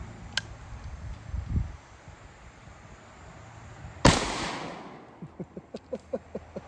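A sharp, loud gunshot from an Ithaca Auto and Burglar or Pedersoli Howdah gun cracks once at close range, followed by a brief rumbling decay and a series of faint rhythmic ticks.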